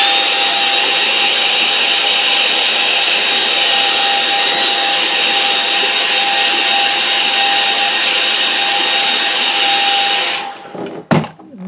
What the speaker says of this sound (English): now, hair dryer, so ready